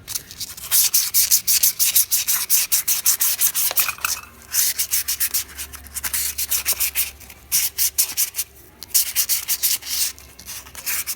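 320-grit sandpaper scrubs a stuck clutch from a CT200u mini bike to strip blue heat discoloration, gouges and rust, giving rapid, rhythmic back-and-forth scratching strokes, close and continuous with short pauses.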